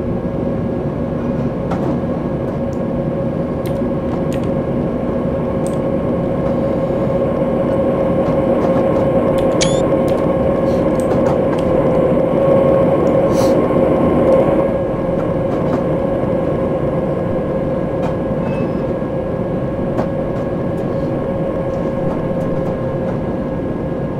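A London Underground District line train runs steadily in a railway simulation game, with a loud constant motor hum and rumble, faint clicks and rattles, and a brief rise in intensity partway through.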